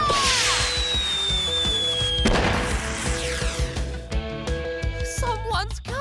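A signal firework launched in a Chuggington cartoon bursts with a whistling rise, then a loud crackling explosion and a fizzling shower of sparks over music, with no speech.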